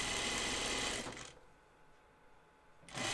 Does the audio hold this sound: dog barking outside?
no